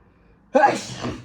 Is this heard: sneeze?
yes